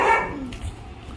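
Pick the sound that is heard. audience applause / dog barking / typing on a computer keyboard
dog barking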